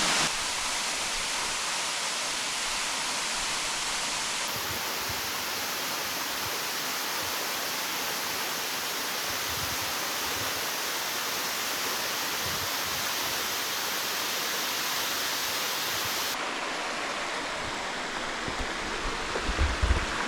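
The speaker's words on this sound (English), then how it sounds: "Check out this waterfall!" Marymere Falls in the Hoh Rainforest area of Olympic National Park pours with a constant, dense roar of rushing water heard up close, steady and unbroken for the whole stretch with no voices over it.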